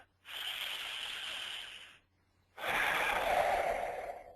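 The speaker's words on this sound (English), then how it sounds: "Take another deep breath." Two long, slow breaths during a guided relaxation, each a soft airy rush lasting about two seconds, heard close and quiet with a short pause between them.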